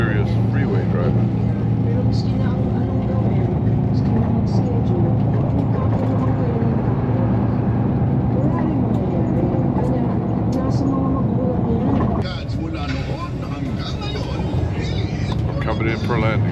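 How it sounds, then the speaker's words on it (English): Car cruising on a freeway between San Pablo, Laguna and Alabang, a steady in-cabin road and engine drone with tire roar that continues unbroken, with a brief change in tone near the end. "We're doing some serious freeway driving."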